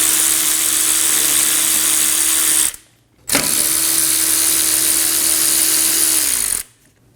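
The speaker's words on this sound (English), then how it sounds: "Using a 14mm socket, remove both caliper bolts." A 14mm socket on a power tool spins out the rear caliper bolts of a 2008-2015 Scion xB, two loud, steady whirring runs separated by a brief pause, close up with no talk.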